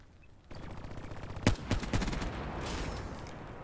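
Rapid pistol gunfire from the LCAR-9 in Black Ops 3 multiplayer, a quick string of sharp shots with a few more following in close succession over steady game background noise.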